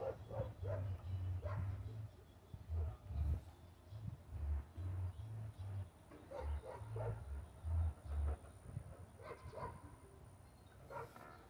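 Soft whimpers and short yips from an aging dog repeat in an uneven rhythm, low and close, with quiet background noise.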